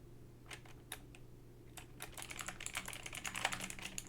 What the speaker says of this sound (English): I don't even want to keep typing it because I know it's so wrong.